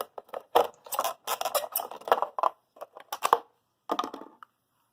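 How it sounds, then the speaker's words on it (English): A knife trims the uneven edge of a cut plastic bottle, giving a run of crisp, crackling scrapes and crunches in irregular bursts, close and fairly loud, with short pauses between strokes. "Now I'm just trimming off the little bit where the cuts didn't quite meet cleanly."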